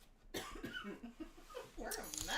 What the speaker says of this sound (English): We just can't shake the after effects of the cough.